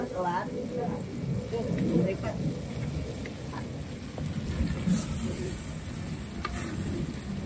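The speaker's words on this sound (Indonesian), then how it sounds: "Kita gongso-gongso biar agak mateng tempenya pemirsa, karena ini tadi mentah ya" Raw sliced tempeh stir-fried in a pan, a steady close sizzle with bursts of scraping and stirring running the whole time, and a voice speaking over it.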